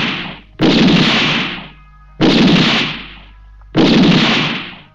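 Four loud gunshots from an execution scene in the film La Patagonia Rebelde, each a sharp, close blast with a rumbling decay, evenly spaced about a second and a half apart, with no talking.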